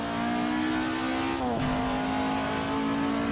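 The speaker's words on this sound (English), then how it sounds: "I'm chasing down this 1600 RS Escort" A Ford Escort 1600 RS race car drives hard in a two-car race, its engine holding a steady high drone, then briefly dipping and shifting pitch before carrying on loud and close.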